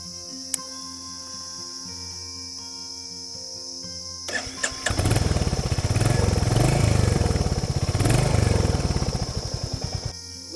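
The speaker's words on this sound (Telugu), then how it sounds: "ఎగ్జాస్ట్ నోట్ ఇవ్వండి బ్రో" A Royal Enfield Hunter 350 motorcycle idles quietly under insect chirps, then fires up and revs, its exhaust note swelling loud and close through two long throttle rises before easing back.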